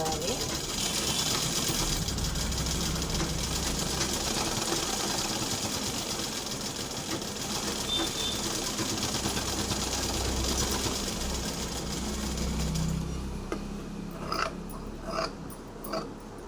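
A sewing machine runs steadily while stitching a folded kaja patti strip, a continuous close mechanical whir for most of the stretch that gives way near the end to scattered taps and handling noises.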